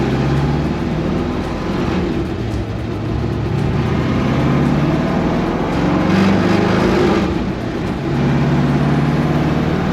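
A vehicle engine idles steadily with a low, continuous rumble, holding an even level throughout with a slight swell midway.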